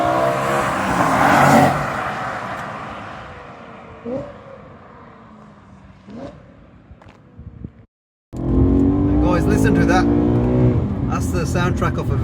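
BMW M3 E90 with a V8 engine driving hard through corners, its engine note rising and falling steadily, with a brief dropout before a louder, throatier stretch of revving.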